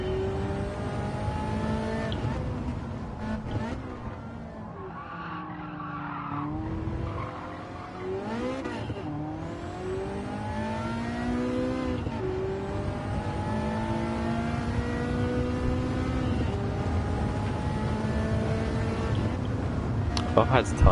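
A Ferrari race car in a racing video game revs and shifts through gears, with rising engine whines and brief tire squeals, while someone talks over it throughout.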